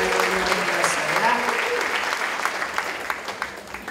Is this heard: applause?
yes